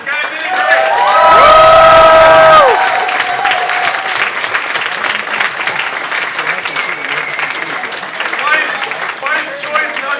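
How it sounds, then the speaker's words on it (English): An audience at a live geeks-versus-nerds game show claps and cheers loudly for both teams. A sustained musical tone plays over the opening seconds, then steady, dense applause with whoops continues to the end. "let's have a round of applause for both the teams, guys"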